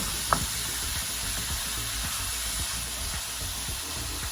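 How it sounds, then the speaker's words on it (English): Ground meat for lasagna sizzling in a pot as it is broken up, a steady close frying hiss with repeated scraping and stirring knocks from a utensil, loud and continuous. "now that the meat's in the pot, make sure you keep breaking it up"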